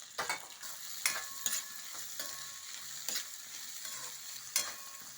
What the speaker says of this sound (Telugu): ఉల్లిపాయలు కట్ చేసి పెట్టుకున్నాను కదండి, ఆ ఉల్లిపాయలు వేసేస్తున్నాను.